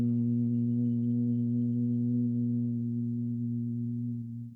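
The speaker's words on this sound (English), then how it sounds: "we're going to breathe in and we're going to make a hum sound to warm up the vocal" A single steady, low hummed tone held for several seconds as a vocal cord warm-up, close and even in volume with rich harmonics, fading slightly at the very end with no talking over it.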